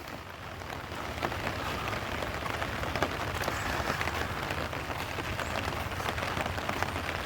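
Steady monsoon rain at Kanila Resort near Karjat, a soft, dense patter of drops on surfaces, continuous and even throughout with no other sounds standing out.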